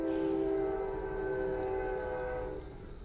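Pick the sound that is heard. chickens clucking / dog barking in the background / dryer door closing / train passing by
train passing by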